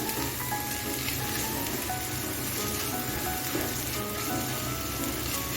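Steady sizzle of semolina balls stirred in a pan with chaat masala and chili flakes, a close, even frying hiss throughout with no talking.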